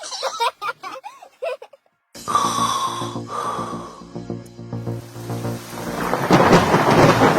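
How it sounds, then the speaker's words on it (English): A heavy thunderstorm erupts after a brief silence, loud rolling thunder with steady rain pouring down and building into a dense hiss toward the end, following a short stretch of clicking sounds at the start. "mother cat and kitten woke up because of the loud thunder outside"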